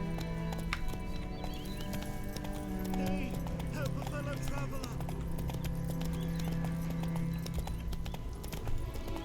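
Rapid hooves of a galloping horse in a medieval-style video game, a steady loud clip-clop rhythm running throughout with a sustained tonal music bed underneath and a brief whinny.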